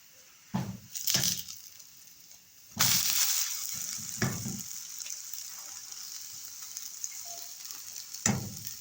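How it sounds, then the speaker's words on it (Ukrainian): Liver pancake batter sizzles with a steady, close hiss in a hot frying pan, punctuated by a few sharp clinks and scrapes of utensils. "і смажимо в наші млинчики до золотистої кірочки з обох сторін"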